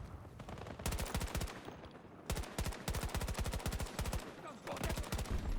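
Rapid automatic gunfire in the video game Battlefield 2042, played via cloud gaming, in several fast bursts of crisp shots with short gaps between, over a low background of game ambience.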